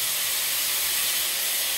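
Wine poured into a hot pan of frying Brussels sprouts sets off a loud, steady steamy hiss that holds evenly for the whole short moment.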